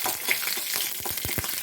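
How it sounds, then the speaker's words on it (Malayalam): Mustard seeds and dried chillies pop and crackle in hot oil in a pan, a brisk sizzle with rapid irregular snaps close up, no talking. "കടുക് പൊട്ടി തുടങ്ങി"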